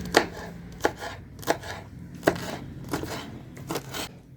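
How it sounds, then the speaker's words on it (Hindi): Mint leaves and green chilies chopped by hand with a knife on a board for a chutney, about seven sharp, close knife strikes falling at an uneven pace with quiet pauses between them. "पुदीना और हरी मिर्च कटिंग कर रहे हैं।"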